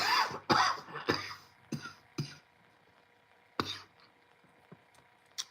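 A few harsh coughs up close at the start, then scattered throat sounds and small bumps in a quiet room.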